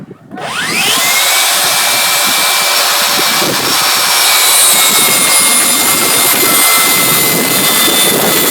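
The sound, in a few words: vacuum cleaner running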